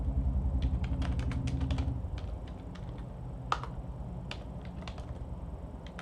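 Computer keyboard typing while code is written, a steady run of sharp, close key clicks with irregular rhythm, over low background hum.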